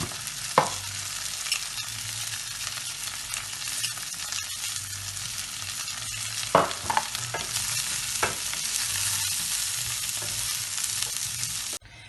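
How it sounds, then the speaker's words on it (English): Garlic and mushrooms sauté in a pan, a constant moderate sizzle with intermittent scraping knocks of stirring, ending abruptly. "add some of the garlic and all the mushrooms and saute until brown"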